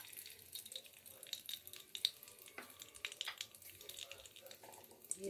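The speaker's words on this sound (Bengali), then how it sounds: "তেলটা গরম হয়ে গেছে, আমি দিয়ে দিলাম কয়েকটি এই গোটা" Whole garam masala spices dropped into hot oil give a faint, crackling sizzle with scattered small pops, fairly quiet throughout.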